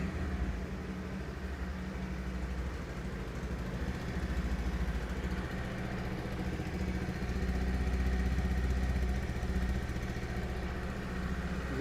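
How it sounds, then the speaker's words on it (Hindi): A Bajaj Pulsar 150 motorcycle engine idles in neutral close by, giving a steady, even low rumble with a fine mechanical chatter that holds constant with no throttle changes. "स्टार्ट करके भी देख ही लेते हैं कि इसमें इसका जो इंजन का साउंड है वो कैसा है।"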